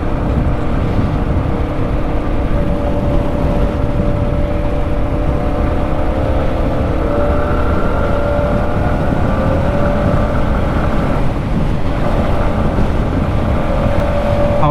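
A Yamaha XT250 dual-sport motorcycle cruises steadily on a Texas highway with a constant loud engine drone and wind rush, the pitch holding even with little change and no talking.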